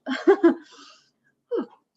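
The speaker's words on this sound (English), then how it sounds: "Apologies for my sneeze." A person sneezes indoors at the start of a morning art class, a short cluster of sharp vocal bursts followed by a brief softer sound a moment later, close to the microphone.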